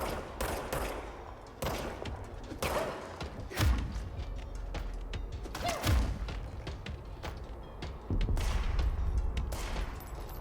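Rapid gunfire from enemies in the video game Control, bursts of shots and heavy thuds overlapping in a dense, continuous barrage, loud and close with no talk.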